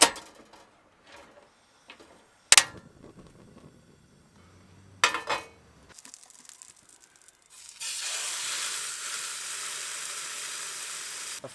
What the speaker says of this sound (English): I thought I'd cook steak